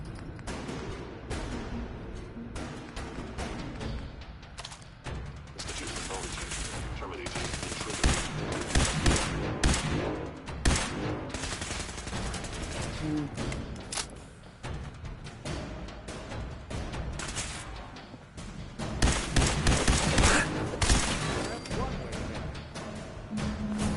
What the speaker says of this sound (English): Automatic fusion pistol's a new gun